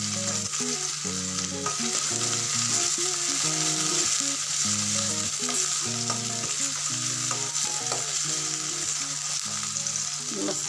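Onion frying in a pan for besan vadi masala bhaji produces a loud, steady, close sizzle that carries on without a break, with faint stirring underneath.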